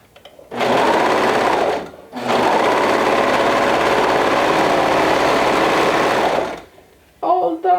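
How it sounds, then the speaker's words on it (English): A sewing machine top stitches a seam allowance in two steady whirring runs, a short run then a longer one, loud and close with a brief pause between them and a little talk at the end. "you can top stitch the seam allowance up"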